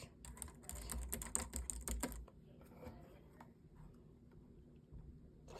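Fingers typing on a Logitech K380 Bluetooth keyboard for Mac, a quick burst of soft, light key clicks close up, followed by a few scattered taps, quiet overall and with no talk.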